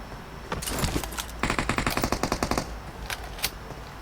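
Weapon fire in the mobile game PUBG Mobile comes as a few scattered shots, then a rapid automatic burst of around a dozen evenly spaced rounds, followed by a couple of single shots, loud and close.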